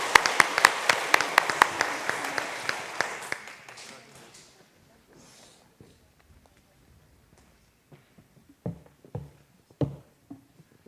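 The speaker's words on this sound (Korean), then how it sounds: "다시 한번 박수 하나 하겠습니다" Church congregation at a Sunday service claps together in a burst of applause that quickly fades, followed by near silence with a few faint scattered knocks and shuffles.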